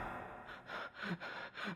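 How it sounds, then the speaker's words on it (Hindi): Cartoon rabbit panting from exhaustion after running, a run of short, breathy gasps in quick rhythm, close and fairly quiet with no other sound. "लेकिन हांफने लगता है क्योंकि वो भाग भाग के थक गया था।"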